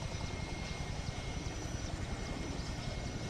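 A helicopter runs steadily nearby with a dense, continuous rotor and engine roar that fills the whole stretch with no pauses.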